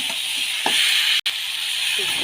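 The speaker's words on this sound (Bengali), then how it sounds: "আলু, পটল আর চিংড়ি মাছের ঠ্যাংগুলো দিয়ে ভালো করে কষানো হয়ে গেছে" Potatoes, pointed gourd and prawn legs frying in a pan give a steady, bright hiss up close, with a couple of soft stirring knocks and a brief dropout partway through.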